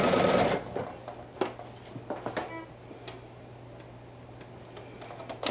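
Sewing machine stitching elastic onto a garment up to a V point, a dense burst of running stitches at first, then sparse ticks and short runs as the needle is stepped slowly, with a steady low motor hum underneath.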